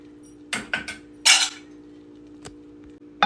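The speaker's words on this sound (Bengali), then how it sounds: "এই যে ঢেকে দিলাম পুরা রাতের জন্য" A metal cooking pot covered with its lid for the night, giving several sharp clanks and clinks of metal on metal, a longer rattling scrape, then a few isolated knocks in a quiet room.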